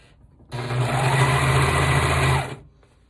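A sewing machine stitches a sweater seam in one steady two-second burst of whirring, loud and close, starting and stopping abruptly with no talk.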